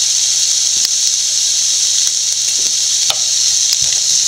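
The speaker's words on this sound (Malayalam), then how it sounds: "എണ്ണ ചൂടായിട്ടുണ്ട്. സവോള ഇട്ട് കൊടുക്കാം. പച്ചമുളക്, കുറച്ച് ഉപ്പിട്ട് കൊടുക്കാം." Onion and green chilli frying in hot oil make a steady loud sizzle and hiss with a few faint stirring clicks, continuous and close throughout.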